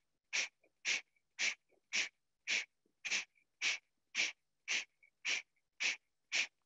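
Forceful rhythmic breaths during a guided breathing exercise, about twelve sharp, even bursts of air at steady half-second intervals, close and fairly loud, with no talking.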